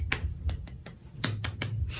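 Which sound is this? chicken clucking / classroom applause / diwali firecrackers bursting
classroom applause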